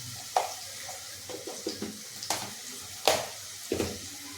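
A spoon stirs turmeric into ridge gourd bhaji in a pan, giving several soft scraping strokes and light clinks over a faint sizzle, irregular and close.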